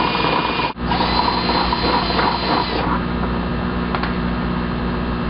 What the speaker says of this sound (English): I just have a 1/4-inch bit on my drill, and I'm just going to hold it sideways to the bucket.